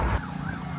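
Emergency sirens coming closer, a faint wavering wail rising and falling under rumbling background noise, with no talking.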